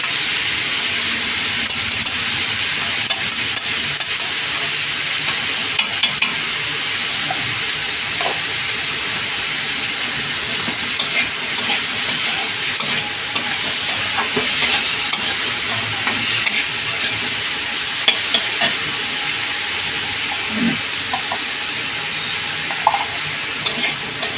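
Pointed gourd frying in ghee in a pan, a continuous close sizzle and crackle with scattered small pops and occasional stirring clicks throughout.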